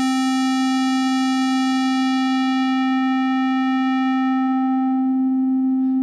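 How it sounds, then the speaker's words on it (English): A synthesizer square wave tone held at one pitch while a low-pass filter cutoff sweeps downward, the bright buzzy overtones gradually fading until a nearly pure, smooth tone remains, steady and loud with no voices. "If I try the same thing with square wave, we get a similar thing happening. I'll start with the cutoff frequency high."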